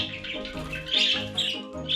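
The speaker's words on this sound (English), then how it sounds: "Another sign that your budgie hates you is that they scream a lot whenever you're around them." A pet budgie screams in harsh, shrill squawks, several loud calls in quick succession close by.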